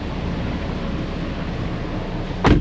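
Wind buffeting a microphone outdoors by a car being diagnosed, a constant low rumbling roar with a sharper gust thump near the end, no talk.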